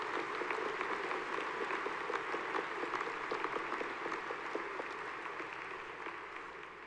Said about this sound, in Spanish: Si les saludamos con un aplauso también de bienvenida a todos ustedes.